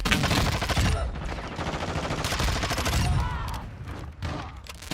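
Rapid automatic fire from the Vaznev SMG in Call of Duty: Modern Warfare 2, loud sustained bursts with brief pauses and a few trailing shots near the end.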